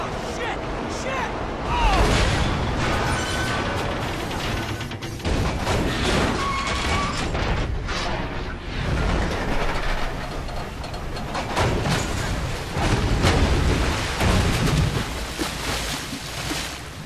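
Explosions and crashing debris roar in a continuous, loud wash as a train is blown up in GTA 5, with repeated heavy bursts and rumbling impacts over a noisy action scene.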